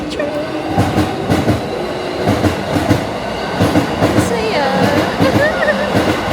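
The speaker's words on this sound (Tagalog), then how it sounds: "Ay, may train na dadaan." A train rumbling past close by near a hotel in a quiet Japanese neighborhood, steady clickety-clack of wheels with faint squeals, while a person exclaims briefly.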